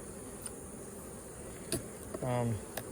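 Honey bees swarm around an open summer hive, agitated during an inspection: a faint steady insect hum with a closer buzzing pass near the end.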